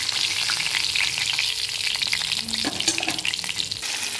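Pomfret fish pieces frying in hot oil, a dense continuous sizzle with light crackling and small utensil scrapes partway through, close and loud.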